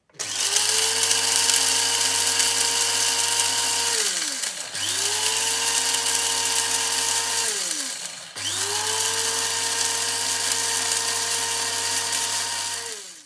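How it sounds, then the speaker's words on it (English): An electric spice grinder pulverizing cinnamon sticks, star anise and maize for mutton biryani, a loud high whine running in three long bursts of about four seconds each with short pauses between, no talking. "This you have to grind in the grinder."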